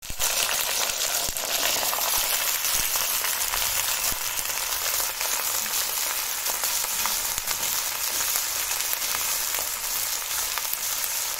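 Okra and potato pieces frying in hot oil, a loud, continuous close sizzle with crackling pops scattered throughout.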